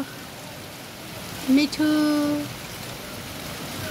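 Steady rain hisses down around a pet parrot outdoors, with one sharp, loud bird call rising briefly in the middle before the even patter continues alone.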